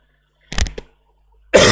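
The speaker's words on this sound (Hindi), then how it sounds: "सर्दी जुकाम तो कम है लेकिन खांसी है थोड़ी सी।" A single short, close cough from a man with a cold, coming after silence and followed by a sudden loud burst of noise.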